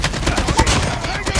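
Call of Duty Mobile gunfire, a dense rapid automatic burst of close, loud shots rattling continuously through the short moment, with faint voices underneath.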